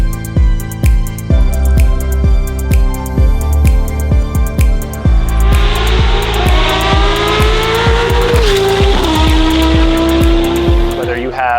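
Porsche 992 GT3 RS fitted with a Valvetronic Designs RSR exhaust, loud and close: a rapid run of sharp revs and blips gives way to a sustained high-pitched wail that climbs and holds, with a faint voice underneath.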